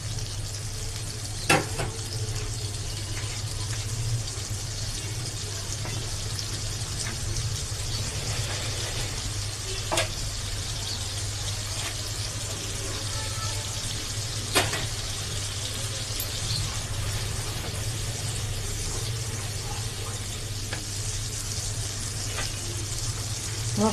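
Spice paste sizzles in a hot pan after a splash of water is added, a steady, soft, hissing fry broken by a few sharp clicks and taps.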